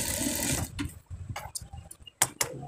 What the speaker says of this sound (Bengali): অপর পাশের পকেটটাও সেমভাবে সেলাই দিতে হবে।